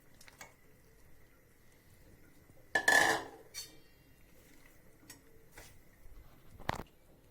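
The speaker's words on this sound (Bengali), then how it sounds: "এবার আমি কেটে রাখা শিম, বেগুন, আলু দিয়ে দিচ্ছি।" Cut beans, eggplant and potato tipped into a pan of fried spice paste for a mixed vegetable and greens dish, then stirred: a few soft utensil clinks and one louder clatter, quiet and sparse.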